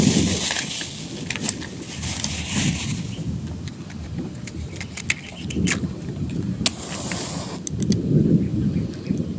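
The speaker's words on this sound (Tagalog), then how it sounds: "ay pakulog-kulog at nakidlat" Outdoors under a rainy sky, thunder rumbles low and rolling while rain hisses steadily, with scattered sharp clicks and a swell of louder rumble near the end, no voices.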